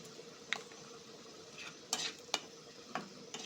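A spoon scrapes and clinks in a pan as turmeric and chili powder are mixed into sizzling food, with several sharp taps over a faint steady frying hiss and no voices.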